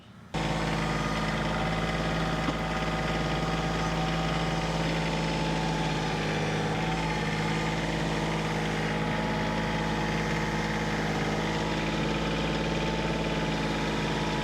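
A four-wheel drive machine runs steadily while clearing logs in a fence row, its loud engine drone constant and close with a vibrating hum throughout.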